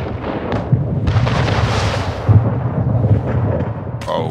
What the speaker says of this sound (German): Schiff aber, unter Beschuss.